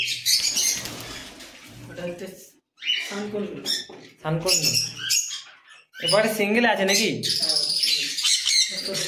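Budgerigars in a bird loft chirping and squawking in loud, busy bursts close by, with people talking over the bird calls.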